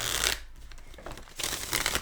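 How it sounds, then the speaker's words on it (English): Tarot cards shuffled by hand in a few brisk bursts of crisp riffling and rustling, close and moderately quiet, with softer card handling between. "Shuffle for Leo here."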